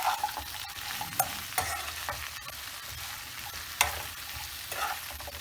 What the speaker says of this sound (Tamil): 3 பிஞ்ச் ஆஃப் பெருங்காயம் எல்லாத்தையும் போட்டு நல்லா ஒரு இலக்கிடுங்க.